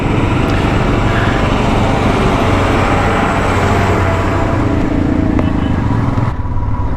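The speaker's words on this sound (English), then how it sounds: "we have got a truck come in" A truck approaches on a gravel mountain road on the ride to Kaza in the Indian Himalaya, its loud, steady engine rumble close and continuous throughout, easing off near the end.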